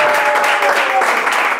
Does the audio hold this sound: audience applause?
yes